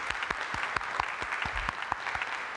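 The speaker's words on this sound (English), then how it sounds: "Give her, please, another round of applause." At a fair housing symposium in the Morton Meyerson Symphony Center in Dallas, Texas, an audience claps for a presenter, giving a brisk, close round of applause with distinct individual claps.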